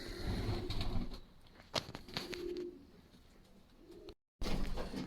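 Pigeons coo in a breeding shed with soft, repeated low coos mixed with flutters and rustling, close by, plus a brief dropout near the end.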